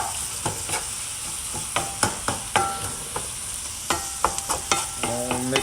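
Empanada filling sautés in a pan with a steady close sizzle, broken by sharp clinks and scrapes of a utensil stirring at an irregular rhythm.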